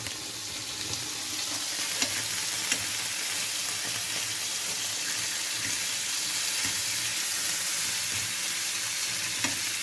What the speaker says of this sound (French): On va essayer de mélanger les deux pour faire une petite sauce pour les buns.